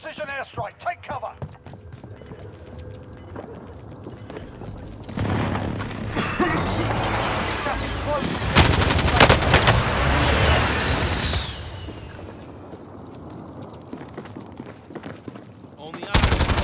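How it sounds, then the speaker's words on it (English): In a shooter video game, an enemy precision airstrike hits with a rising roar and a rolling barrage of blasts and rapid gunfire. A voice calls out over the explosions. "Enemy precision airstrike."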